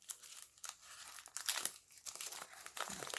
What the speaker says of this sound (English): I just gotta cut the sides off of it that has the key